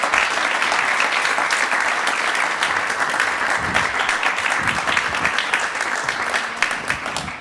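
A crowd applauds loudly and steadily, dense clapping that holds throughout without any talking.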